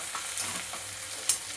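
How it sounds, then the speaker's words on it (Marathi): Green chillies roasting in a hot pan for Kolhapuri chicken kharda, a soft continuous sizzle with light stirring scrapes and one sharper clink near the end. "मिरच्या चांगला खरपूस भाजून घ्यायचा"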